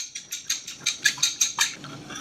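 A spoon or utensil stirs a meatloaf mixture of ricotta, eggs and salt in a bowl, giving a steady run of about eight quick, close, wet slapping strokes with no talking.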